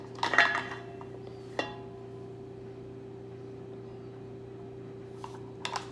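A metal teaspoon clinking against a dish while salt is measured for banana bread, with a bright cluster of clinks at the start, a single tap, then quiet under a steady background hum before a few more small clinks at the end.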